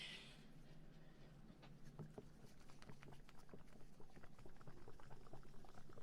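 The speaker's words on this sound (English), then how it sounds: "Sloshy tummy noises." Soft, wet gurgling and bubbling with irregular little pops, quiet and close, continuing for several seconds.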